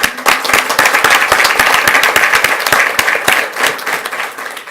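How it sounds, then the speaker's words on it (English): Loud, close applause from the audience at a school board meeting honoring student business leaders and teacher advisors, many hands clapping briskly and continuously, a few individual claps standing out. "Give them a round of applause"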